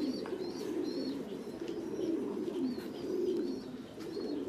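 Thai Titan pigeons coo steadily inside a loft, several soft, overlapping low calls continuing throughout, with a few faint chirps above them and no one speaking.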